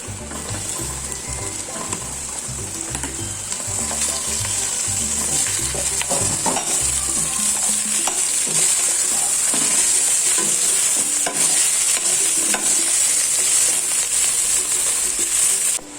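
Ground beef frying in a pan with garlic and onions for Filipino-style spaghetti, a steady loud sizzle with scraping stirs throughout, no talk.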